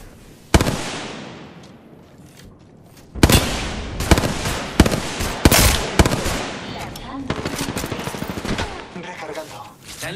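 Rapid gunfire and impact blasts from the Apex Legends battle royale shooter erupt in loud, dense bursts and sharp single shots, starting after a quiet opening, with game sounds and callouts mixed in.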